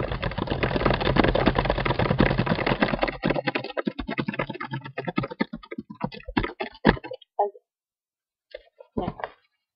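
Rapid clicking of fingers typing on a computer keyboard in a Word document: a dense, steady run of keystrokes that thins into scattered, separate taps and short pauses, ending with a few final clicks.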